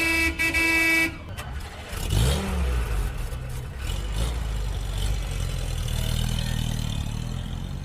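A truck sets off through town at a popular street ball, with a loud horn blast at the start followed by a rising engine rev and the steady rumble of the vehicle pulling away.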